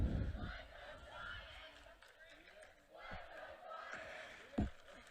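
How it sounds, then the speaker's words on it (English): A crowd at a high school football game lets out scattered yells and cheers in bursts, with a few sharp loud peaks, while voices talk nearby. "Got a crowd here."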